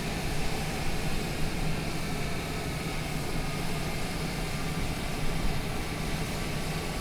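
A small airplane's engine drones steadily at a small airport, a loud, continuous broadband roar that holds even throughout without pauses or talk.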